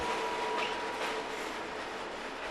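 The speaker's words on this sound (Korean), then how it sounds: "이 열차는 밤새 이탈리아의 반도 끝까지 달려가" An overnight passenger train rumbles steadily along the rails through southern Italy, a continuous broadband roar with faint rhythmic clatter, close and loud throughout with no voices.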